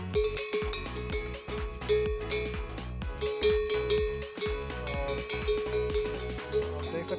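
Loud brass bells ringing on the necks of dairy cattle at a farm in winter, a dense, continuous jangling with repeated metallic clangs and rhythmic strikes close by, with no talk over it.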